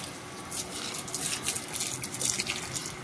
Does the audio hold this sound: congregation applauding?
no